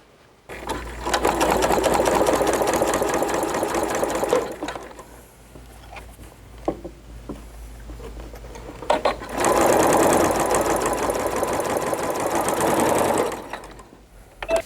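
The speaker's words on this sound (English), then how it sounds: "I'm going to match this dot to this dot, and sew my 1/4 inch seam." A sewing machine runs in two long steady bursts, stitching a quarter-inch seam on a table runner, with a quieter pause between runs filled by faint handling noises.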